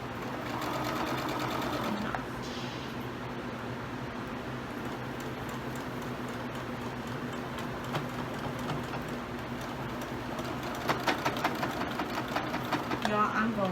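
A sewing machine runs steadily while stitching a pillow, a continuous close mechanical whir with rapid ticking, which grows slightly more clattery toward the end. People talk over it at times.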